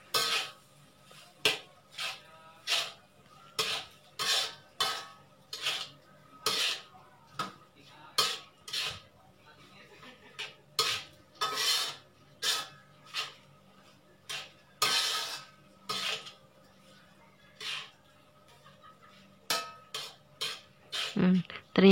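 A spatula scrapes and clanks steadily against a pan while fried rice with soy sauce is stirred, giving a quick rhythm of sharp metallic strokes with short pauses between them.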